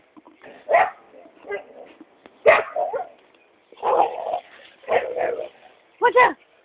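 Old dog barking in several short, loud bursts with whimpering yips between them, spaced irregularly and close by, while people talk in Spanish around it.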